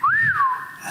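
A person whistles to imitate a pet parrot's whistle, one short close rising-then-falling whistled note that trails off, with no talking.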